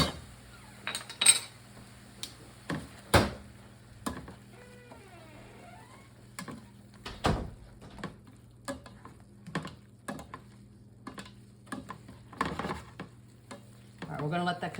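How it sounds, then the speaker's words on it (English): Minced garlic sizzles gently with onions and celery in a single pan while a utensil stirs and scrapes, giving repeated distinct knocks over a soft, steady frying hiss. "we just wanna add in about like 2 minced garlic. And we're gonna cook that in."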